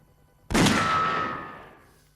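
A single loud gunshot cracks suddenly out of near silence, followed by a long decaying echo that rings on for more than a second.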